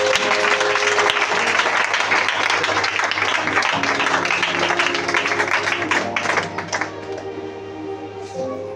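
A church congregation bursts into loud, sustained applause with clapping and cheering, steady for most of the stretch before easing slightly near the end, with a faint musical tone running underneath.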